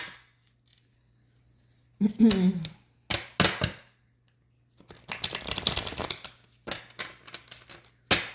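Crisp bursts of tarot cards being shuffled and riffled, a few separate rustling runs with quiet gaps between them, close to the microphone.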